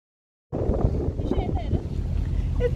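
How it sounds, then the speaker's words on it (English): Strong wind buffets the microphone outdoors, a loud rushing roar that starts abruptly after half a second of silence and continues with gusty fluctuations. "It's so windy!"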